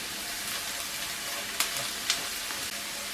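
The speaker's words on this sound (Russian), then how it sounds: "Обжариваю теперь морковь вместе с луком." Carrots and onion sizzle in butter in a frying pan, a steady soft crackle with a couple of sharper pops and light stirring scrapes, close and without talk.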